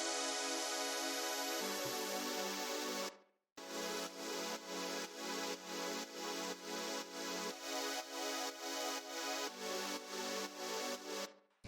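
A layered synth pad for gritty lo-fi house plays sustained chords with a rhythmic pulsing swell, breaking off briefly after a few seconds and then resuming, heard alone.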